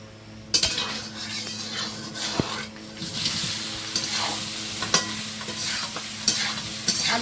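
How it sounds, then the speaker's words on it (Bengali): Potatoes with turmeric and salt sizzle in hot oil in a wok while a utensil stirs and knocks against the metal, scraping and clinking at intervals, close up. "এটাকে একটু ভেজে নিতে হবে ভালো করে"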